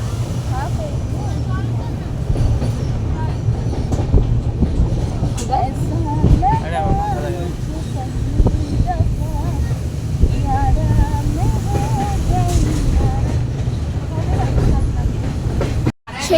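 Steady low rumble and rattle inside a moving train on a river-crossing journey, continuous throughout with faint tonal squeals, people talking softly underneath, cutting off abruptly near the end.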